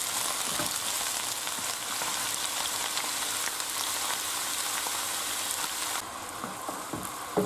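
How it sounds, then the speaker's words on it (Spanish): Garlic sautés in a pan, a steady close sizzle and fry hissing continuously throughout, with a slight drop in intensity near the end and a brief clatter at the finish. "También echamos el ajo. Y lo rehogamos durante unos 5 minutos más o menos."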